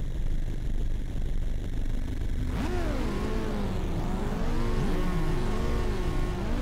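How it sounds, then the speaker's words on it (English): Race car engines revving on a racing video game's canyon road before the start, a steady engine drone joined midway by rising and falling revs from several cars, loud and continuous. "All right, it's time to fire up those engines."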